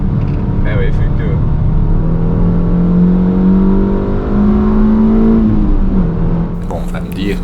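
A Suzuki Swift Sport engine fitted with a pedal box revs near idle, a steady droning hum that rises in pitch and settles again, heard close with a person talking over it.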